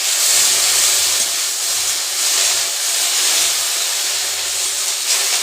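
Okra frying in oil in a pan gives a steady, close, loud hiss of bubbling oil with no pauses or speech.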